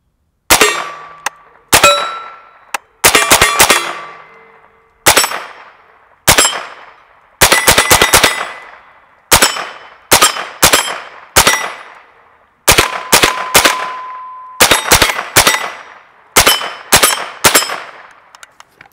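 Smith & Wesson M&P rifle fired left-handed, a rapid string of sharp, loud shots in irregular bursts, each crack followed by a brief ringing tail, with no talking.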